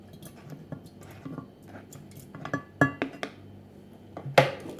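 Homemade kefir being poured from one container into another jug in a kitchen, with soft liquid splashes and several sharper clinks of glass and utensils, close and fairly quiet, building toward a louder knock near the end.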